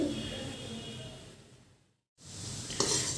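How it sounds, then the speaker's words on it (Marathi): Dry coconut roasting in a pan for Solapuri kala masala, a steady soft sizzle and scrape that fades and cuts out briefly before resuming, with a light clink near the end. "आता आपण खोबरं भाजून घेऊया व्यवस्थित"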